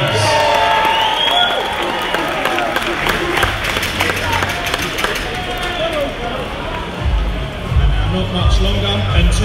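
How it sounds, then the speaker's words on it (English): A crowd applauds the Crystal Palace Ladies football team at the Palace Boxpark takeover event, scattered clapping and cheering mixed with loud chatter and background bustle, with low thuds near the end. "So please give them a big round of applause, the Palace Ladies."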